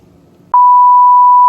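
A loud, steady censor beep at one pitch cuts in abruptly over faint speech and holds to the end.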